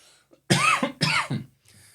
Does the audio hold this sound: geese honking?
no